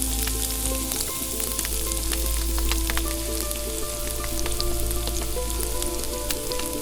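Peppers sizzling in harissa paste in a pan inside a wood-fired oven, a dense continuous crackling sizzle with scattered pops over a low steady rumble, close and loud with no voices.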